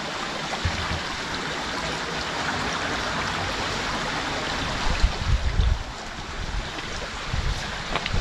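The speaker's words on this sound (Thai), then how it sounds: "เจอลำธารค่ะ" A mountain stream rushes steadily near Ullswater, a broad outdoor wash with some wind noise, no voices.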